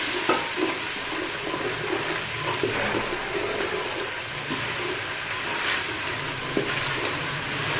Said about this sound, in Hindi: पानी का छक्का दे के थोड़ा सा तो भूनूंगी, 5 मिनट के लिए भूनूंगी इसको, मसाले को मुलायम होने तक